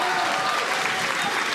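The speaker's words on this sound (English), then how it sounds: "Can we Keep have a ripping. round of applause for these guys first?" A live audience at a Pride-related stage show gives a steady round of applause, a dense wash of clapping filling the whole short stretch at even loudness with no clear voices on top.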